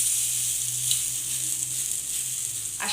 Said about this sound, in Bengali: এবারে আমি আস্তে আস্তে যেরকম পোস্তর বড়া ভাজে সেইভাবে ভেজে নেব।